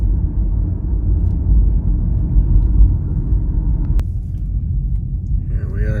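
A car drives at night through a dark residential area, its engine and tyres making a loud, steady low road rumble from inside the cabin, with a brief click near the end.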